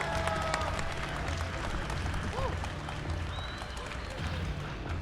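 An audience at an Evo 2025 panel for the Invincible Versus team claps in a steady, moderately distant round of applause beneath crowd murmur, with faint voices mixed in.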